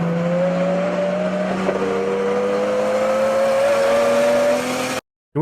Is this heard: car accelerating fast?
yes